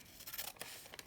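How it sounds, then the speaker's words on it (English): Scissors snip through a badly printed paper page, a few quiet, close cuts in a soft, otherwise silent room. "it was badly printed, so I'm going to cut it"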